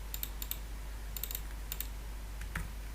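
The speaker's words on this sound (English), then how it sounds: "let's type debug.log, let's type E, and add the library system" Computer keyboard typing, quick light clicks in small bursts with short pauses, close and fairly quiet over a faint steady hum.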